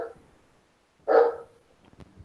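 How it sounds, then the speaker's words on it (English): A big dog lets out a single loud bark in the distance, with faint muffled noises before and after it. "Jimmy, do you hear a dog? A very big dog barking?"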